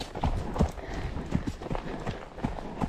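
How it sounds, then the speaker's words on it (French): Hooves clip-clop in a steady trotting rhythm, close and moderately loud, with soft snorting breaths mixed in. "Elle souffle, mais elle trotte."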